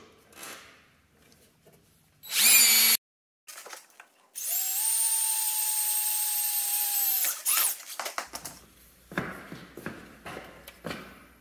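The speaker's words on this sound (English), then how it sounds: "Start by drilling a smaller pilot hole first." A power drill whines steadily at high speed for several seconds drilling a pilot hole in steel on a Jeep JK front axle, with short bursts before and after, close and loud, then scraping and handling noises.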